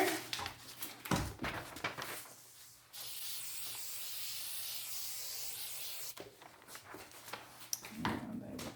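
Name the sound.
spraying adhesive from a spray can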